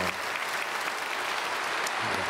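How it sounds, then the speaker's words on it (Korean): A church congregation at a Sunday worship service claps to welcome newly registered members, a full, continuous burst of applause from many people filling the room. "우리 크게 박수로 환영하겠습니다."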